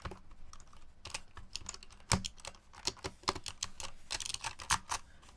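Typing test on a cheap mechanical keyboard, a close, irregular run of clacky keystrokes in quick bursts with occasional heavier presses, alone without talk.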